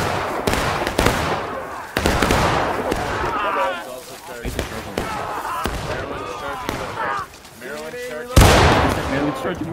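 Musket shots crack in War of Rights, a Civil War shooter, sharp bangs scattered irregularly near and far under shouted voices of players.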